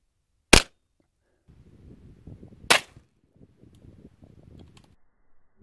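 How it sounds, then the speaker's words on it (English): .22 Long Rifle gunshots fired into packed metal shavings: two sharp, loud cracks about two seconds apart, each a brief isolated burst, with faint low rustling and shuffling in between. "So we're gonna be trying this 22 long rifle into, we only put two up there."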